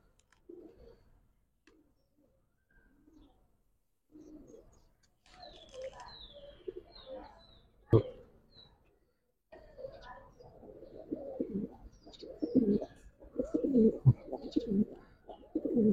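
Giribaz and khaki pigeons coo in a cage, soft and close at first, then building into a louder, steady run of overlapping coos.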